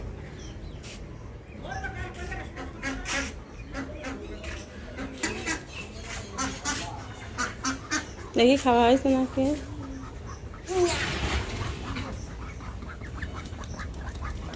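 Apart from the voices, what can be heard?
ducks quacking outside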